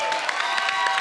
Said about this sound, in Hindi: जोरदार तालियां एक बार दादा